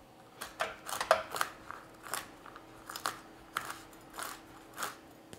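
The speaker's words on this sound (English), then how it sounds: "The rest I'm going to chop nice and finely." Knife chopping pecans finely on a board, a run of quick crisp crunching cuts in uneven bursts, close and fairly quiet with no talking.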